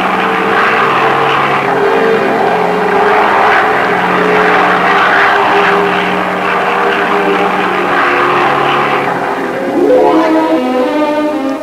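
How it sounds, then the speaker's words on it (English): A converted Anson bomber comes in to land, its propeller engines giving a loud, continuous drone that holds steady throughout, with a slight rise in pitch near the end. "the pilot loses no time making a landing with his converted Anson bomber"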